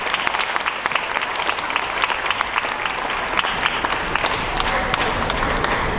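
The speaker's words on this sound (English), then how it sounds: "deserves a round of applause as well" A large crowd applauds steadily and loudly, with dense, continuous clapping that never lets up.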